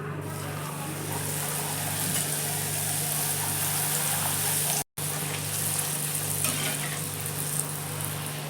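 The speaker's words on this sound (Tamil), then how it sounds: "இப்போ நம்ம பூரி பொரிச்சுக்கலாம்." Pooris deep-fry in hot oil, giving a steady, loud, broadband sizzling hiss over a low hum that continues evenly apart from one abrupt, momentary dropout. No one speaks.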